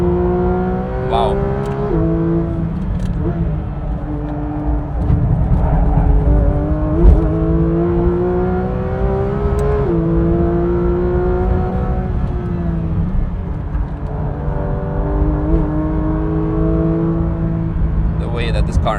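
A Manthey Porsche 992 GT3 RS on the Nürburgring screams through repeated rising revs and gear changes, loud and close from inside the car, with a driver talking over the engine.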